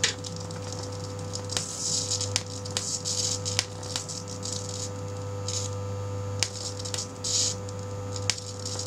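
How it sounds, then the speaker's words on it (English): Variac humming as it powers a flyback transformer driver at around 40 to 52 volts, a steady loud mains-frequency drone with faint crackles and occasional sharp clicks over it, close and continuous. "The humming you can hear is a variac, by the way."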